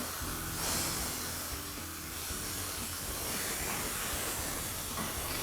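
Fish fillets sizzle and hiss in a non-stick frying pan, a loud, steady frying crackle that carries on without a break, close up.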